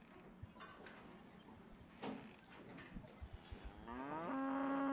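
A cow in the video game Cube Escape gives a long, loud, rising moo at the end, after a few soft thumps and clanks.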